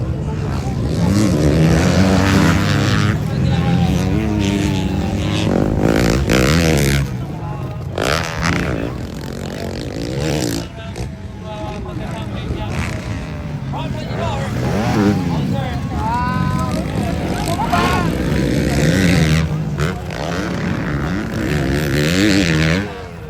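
Motocross bikes in an all-Honda production heat at a Passi City competition roar and rev across the track, engine whine rising and falling continuously beneath loud commentary.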